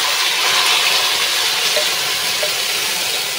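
Ground green chili, ginger and garlic paste hitting hot coconut oil in a pan on a stove, a loud, steady, broad hiss of frying that fills the whole clip with no break.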